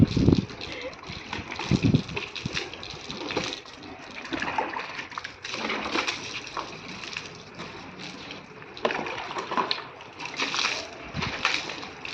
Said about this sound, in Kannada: ಇವಾಗ ಗಾಡಿ ವಾಶ್ ಮಾಡಿ